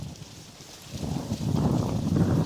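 Wind gusting outdoors as a low, rough rumble against the microphone, quieter at first and then swelling stronger and steady for the remaining couple of seconds.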